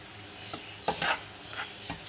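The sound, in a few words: onions frying on a low flame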